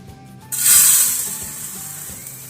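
Black urad dal lands in a hot, dry kadai for roasting, setting off a sudden loud rustling hiss that swells and then slowly fades as the lentils settle.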